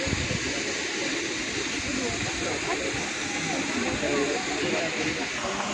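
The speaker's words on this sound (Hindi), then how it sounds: "ये देखें एक झरना वहाँ पर भी है" Water pours in a steady broadband rush from a waterfall at the Kalyan Kedareshwar Mahadev cave temple near Sailana, Ratlam, a continuous hiss with faint crowd murmur beneath.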